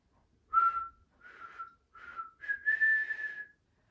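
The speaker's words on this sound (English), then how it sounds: "You could whistle it." Someone whistles a short tune alone, four clear notes, the last one held longer, in a quiet room.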